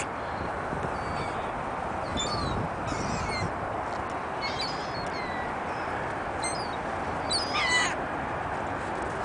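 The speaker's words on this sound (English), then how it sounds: "the birds are standing on the icy" Birds calling over a frozen, icy lake in New York, several scattered chirps and caws at moderate distance above a steady broadband wind-like hiss, no talking.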